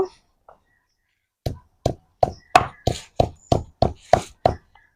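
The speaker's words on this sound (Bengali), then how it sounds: "এবার আমি এটাকে শিলপাটায় থেতো করে নেব" Pineapple leaves pounded on a stone grinding slab, about ten sharp, evenly spaced thuds in a steady rhythm, close and fairly loud, after a short quiet start with a couple of faint taps.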